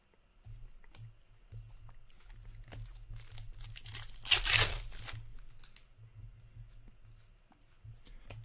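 A Ricola cough drop wrapper is torn and crinkled open, with light rustling building to one brief, close, sharp tearing burst midway before settling into faint crumpling.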